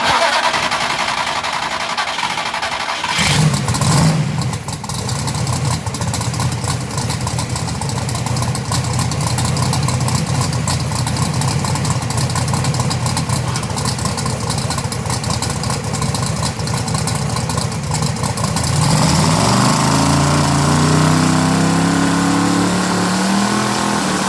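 Billet Hemi engine on a dyno, quiet at first, then a sudden loud sustained roar at full load for about fifteen seconds before the revs drop and wind down.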